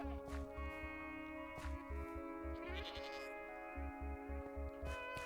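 Minecraft goat bleating in a video game, several short wavering bleats spaced across the stretch over a quiet, steady tonal background.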